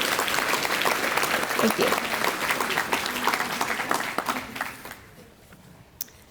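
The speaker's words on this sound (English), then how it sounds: "Please give a round of applause for the 2019 top Wayne County Soils team" Audience applause for the 2019 top Wayne County Soils team, Western Wayne FFA, at a Wayne County Soil and Water annual meeting: steady clapping from a crowd that tapers off over the last seconds, with a voice speaking briefly near the end.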